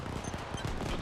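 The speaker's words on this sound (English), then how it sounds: "Even more artillery." Artillery fire in the real-time strategy game Halo Wars 2, a quick burst of several booming impacts in rapid succession, loud and close, packed into about a second.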